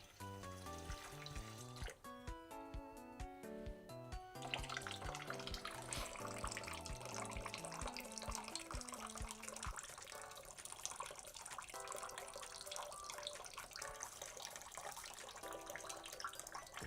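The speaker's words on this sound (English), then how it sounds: "Ignore the water trickling." Water running from a tap indoors, a steady quiet hissing trickle that continues throughout, with music playing over the first half.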